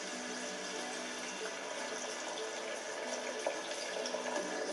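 Cider braising liquor pours into a stew pan holding wild rabbit and its juices, a steady, fairly quiet liquid stream that runs unbroken for several seconds.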